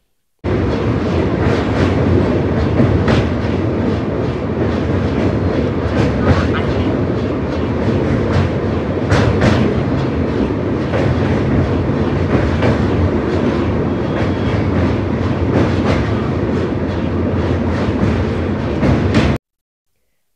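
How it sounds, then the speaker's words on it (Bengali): A moving passenger train rumbles steadily throughout, with rattling carriage noise and faint rhythmic clatter of wheels on track, loud and continuous until it cuts off. "ট্রেন ছুটে চললো আমাদের গন্তব্যের দিকে"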